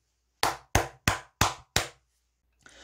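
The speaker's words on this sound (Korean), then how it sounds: "축하의 의미에서 박수를 치고 가도록 하겠습니다" Five sharp, evenly spaced hand claps ring out in celebration, loud and close, followed by a moment of quiet before faint noise resumes.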